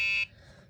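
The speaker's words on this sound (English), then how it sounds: "we have a buzzer." A harsh electronic buzzer on an Arduino timer sounds for a quarter second, loud and piercing, then cuts off into quiet room noise.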